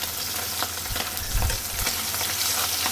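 Pabda fish fry lightly in hot oil, crackling in a steady close sizzle with soft pops and occasional low bumps from the pan, and no voices.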